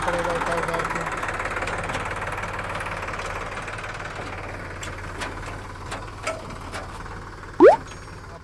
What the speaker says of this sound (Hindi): ये देखिए ट्रैक्टर आ चुका है और इसे यहाँ पर खाली करना है।